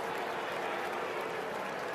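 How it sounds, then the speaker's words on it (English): A baseball stadium crowd reacts to an umpire's call during a Yankees–Athletics game, a dense, steady roar of many voices with a hint of clapping, loud and continuous with no announcer speaking. "Crowd didn't like that call."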